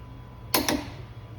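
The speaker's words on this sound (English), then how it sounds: "And you hear that breakaway? That means that it's torqued down to the right spec." A torque wrench reaches its set value on the lug nuts of a 2-inch KSP Performance wheel spacer on a 2004 Chevrolet Tahoe, giving two quick, crisp clicks in close succession over a quiet background.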